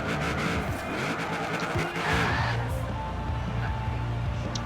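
Buick Regal launching off the e-brake in the racing game Forza Horizon 4, a loud engine roar with tires squealing and skidding, settling into a steady droning rev near the end.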